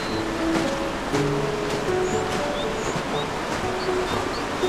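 Johnston Creek still running through icy Johnston Canyon in Banff in winter, a steady broad wash of bubbling water that fills the whole clip at even loudness, with no voices.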